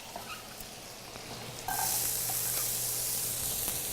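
Onions drop into a hot pan of oil and start sizzling, a sudden loud, steady frying hiss that holds close and continuous after a quieter moment of background noise.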